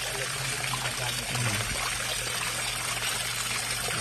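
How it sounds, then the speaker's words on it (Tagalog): Water is poured to rinse charcoal, making a steady, close splashing pour that continues throughout, with faint background noise. "Mga 5 waswas pa po ng tubig hanggang sa mahugasan yung uling doon."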